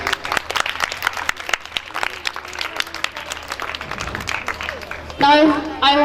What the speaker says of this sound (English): loud clap for Mehtab Hassan.